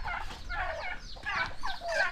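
Turkeys on a farm gobble in repeated rapid warbling bursts, several calls overlapping at moderate distance with brief pauses between them.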